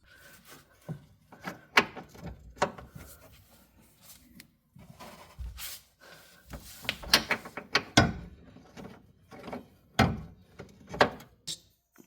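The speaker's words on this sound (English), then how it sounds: "Now we gotta take the top bolt out." Tools working on the top bolt of an Audi R8 strut: irregular metallic clanks, knocks and ratchet-like clicks, close by, with short pauses between them.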